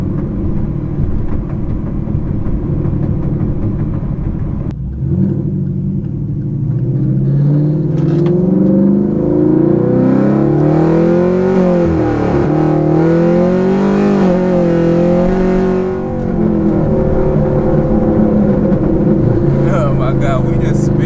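A car's engine revs hard and holds a loud, continuous roar as the wheels spin without traction on a drive, with rising and falling pitch sweeps; someone talks over it.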